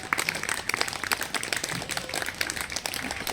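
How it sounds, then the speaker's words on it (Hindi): A crowd at an outdoor yoga camp in a park claps in a fast, dense patter of sharp hand claps that runs evenly throughout, fairly close and moderately loud. "तालियां तालियां तालियां"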